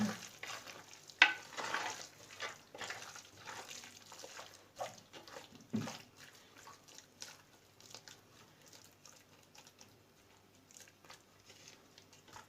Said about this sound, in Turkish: Etle salçaları iyice tabii tabii harmanlıyorsun enişte.